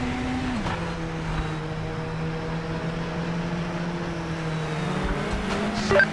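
A race car in Project Motor Racing pulls out of the pit lane, its engine holding a steady, droning note under a pit-lane limiter before revving higher in the last second. Heard up close with no voices.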